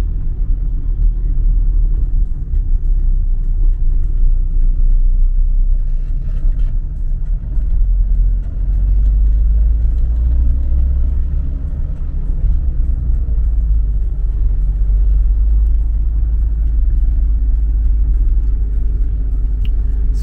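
A car drives through the city of Bălți, its engine a steady low rumble close by, with road noise holding constant throughout and no voices.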